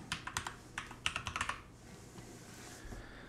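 Rapid keystrokes on a computer keyboard as a username and password are entered, a quick burst of clicky taps followed by a shorter cluster, then near-silence with faint room hum.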